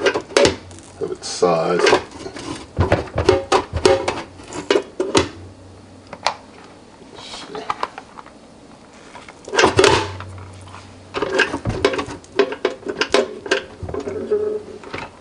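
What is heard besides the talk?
ramekin being pulled out of Ninja Speedi pot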